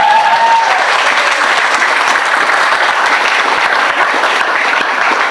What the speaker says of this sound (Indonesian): Tepuk tangan buat beliau